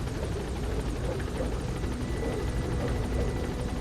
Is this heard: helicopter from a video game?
yes